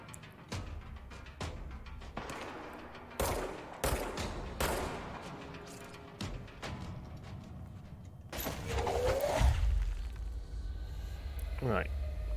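Gunfire from a sniper in the action video game Control, heard as several sharp separate shots spread across the clip, with a louder burst of impacts near the end, under and between a player's speech.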